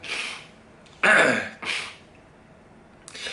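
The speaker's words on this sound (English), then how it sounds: "I can't do all this motion without coughing and spluttering my way out of it" A few harsh, breathy coughs and throat-clearing bursts come in separate spurts, close to the microphone with quiet gaps between.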